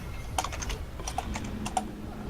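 Rapid, irregular keyboard typing with sharp clicks spread across the clip, over a low steady background hum.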